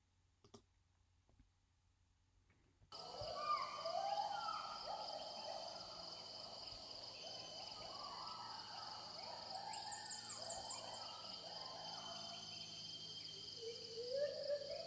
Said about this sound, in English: That's a gibbon.